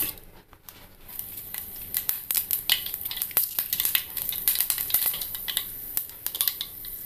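Mustard seeds splutter and pop in hot coconut oil in a pan, a dense crackle of sharp, irregular snaps over a continuous sizzle, close and fairly loud throughout.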